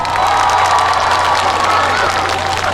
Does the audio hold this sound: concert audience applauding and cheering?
yes